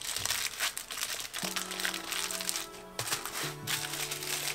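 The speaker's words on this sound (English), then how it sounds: "hold the tin foil over and seal it on all sides" Tin foil crinkles and crackles up close as it is folded over and sealed on all sides around a parcel of smoker wood chips for a barbecue, with steady rustling throughout and a faint tonal hum in the background.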